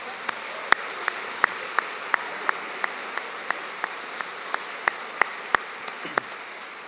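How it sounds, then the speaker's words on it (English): At a university convocation ceremony, sharp claps ring out in an even, steady beat, a bit under three per second, over a faint background hush. No one speaks. "Let's give a big round of applause."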